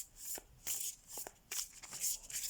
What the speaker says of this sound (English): I always test the sound of the cards when I shuffle, with every new deck I get.